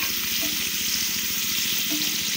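Onions fry in a pan with green chillies for a radish greens stir-fry, making a close, continuous sizzle with a dense hiss and a faint, steady crackle throughout.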